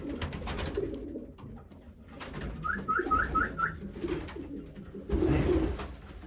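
Young racing pigeons of mixed colors coo in their loft, a short run of soft rising calls in quick succession against faint background rustling and a low murmur.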